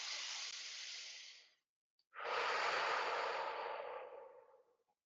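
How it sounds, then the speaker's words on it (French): A person breathes deeply in a quiet room, giving two long, close, airy breaths split by a brief pause, with the second breath louder and slowly fading out. "Inspirez profondément pour imprimer ça à l'intérieur de vous."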